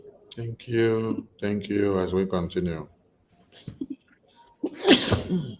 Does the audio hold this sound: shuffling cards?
no